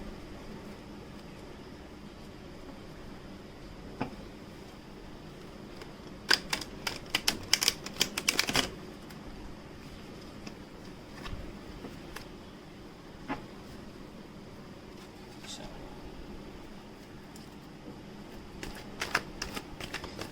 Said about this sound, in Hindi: सो एक बार शफल कर ही लेती हूँ।